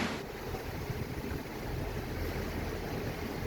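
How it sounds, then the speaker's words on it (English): Water rushing steadily along the hull of a sailboat under way at sea, a continuous close wash mixed with wind noise, with no talking. "the sound of the water going by the hull"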